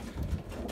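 Young racing pigeons in a loft give a brief, soft, low coo up close, with a faint hiss of background around it.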